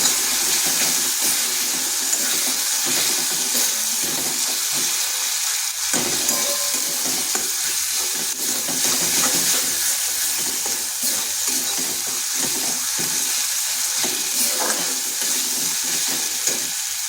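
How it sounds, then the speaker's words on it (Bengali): A spice paste of cumin, coriander and chili powder sizzles and hisses steadily in a hot pan, with occasional scraping as it is stirred, loud and close throughout. "জিরে গুঁড়ো, ধনে গুঁড়ো আর লঙ্কার গুঁড়ো। মশলাটাকে ভালো করে কষে নিচ্ছি।"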